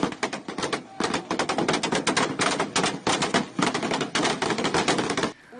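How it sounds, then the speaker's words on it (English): Weapons fire from military deserters and civilians during a coup attempt in Bolivia: dense, rapid cracks and bursts that run almost without pause for about five seconds, then stop abruptly. "That was the moment the military deserters and some civilians started firing their weapons."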